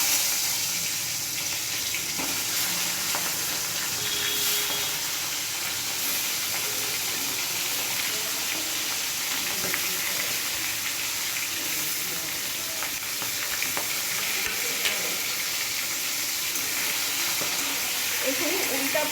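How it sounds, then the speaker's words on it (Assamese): Fish heads fry in hot mustard oil in a wok, giving a continuous bright sizzle at moderate loudness with occasional faint clinks and stirring sounds. "এতিয়া মই মাছখিনি ভাজি ল'ম।"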